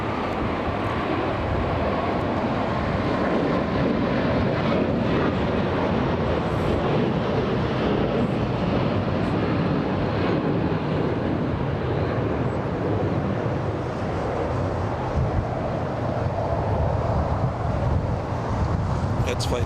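A Qatar Airways Airbus A350-1000 jet roars steadily at LAX airport, a loud broadband engine rumble with wind buffeting the microphone throughout.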